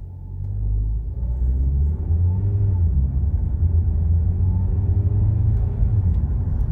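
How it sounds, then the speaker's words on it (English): A Ford Focus with a manual clutch pulls away after a full stop, giving a steady low engine rumble heard from inside the car, with no talking. "I'm going to come to a complete stop and accelerate."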